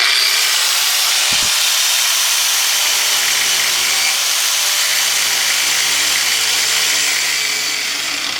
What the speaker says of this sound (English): gonna plug in our grinder here. I'm just gonna put a grind down the middle.